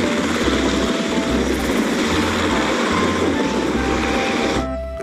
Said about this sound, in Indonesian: Wih, ada helikopter tempur teman-teman.